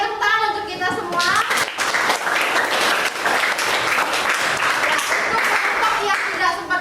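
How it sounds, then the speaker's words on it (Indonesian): Students in a high school classroom break into loud, sustained applause, many hands clapping steadily, with a voice and children's chatter mixed in at the start. "tepuk tangan untuk kita semua"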